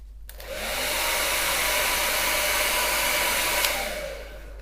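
A Parlux hair dryer blows with a steady, loud rushing whoosh and high whine, ramping up at the start and tailing off near the end, with no voices.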